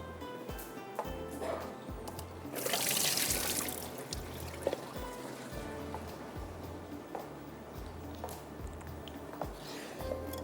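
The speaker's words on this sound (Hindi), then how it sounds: "तो आलू को पानी निकालती हूँ मैं इसका पहले" Water is drained off potatoes in a home kitchen, a faint pour and trickle with a louder splashing rush midway, among soft clinks and handling noises.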